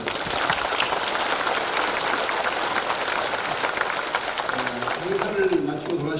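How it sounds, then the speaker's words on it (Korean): A church congregation at a thanksgiving service applauds in a dense, continuous wash of clapping that fades near the end as a voice comes in. "우리 성도들을 위해서 박수 한번 보내주세요."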